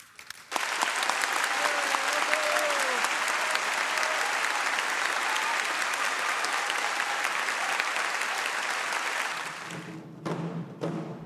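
Sustained, loud audience applause after a Korean drum dance performance by a children's troupe, a dense wash of clapping lasting about ten seconds before cutting off.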